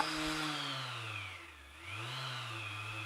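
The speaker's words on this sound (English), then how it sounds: "It also has the variable speed on the back of the sander. It is a paddle sander." MaxXT 6 inch 2.5mm random orbital paddle sander running with variable speed, a smooth motor whine that dips in pitch midway and then rises back, close and fairly quiet.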